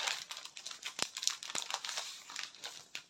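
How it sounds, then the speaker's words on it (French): Leftover decorative scrap paper is pulled out and crinkled, a close run of soft rustles and sharp crackles with a few louder crisp crunches, no talking. "Je vais ressortir le papier que j'ai choisi."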